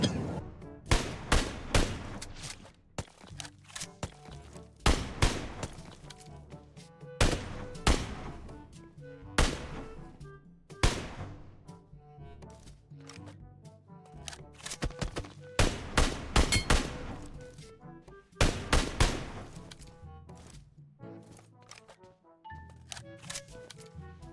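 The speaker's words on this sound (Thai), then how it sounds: "ยิงจังเลยเฮีย" Shooting in PUBG Mobile comes as repeated bursts of sharp gunfire, some rapid automatic volleys and some single shots, spread across the whole stretch with short gaps between them.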